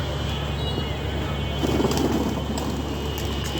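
Pigeons in a loft give a soft, low cooing burst in the middle, mixed into a steady noisy background hum.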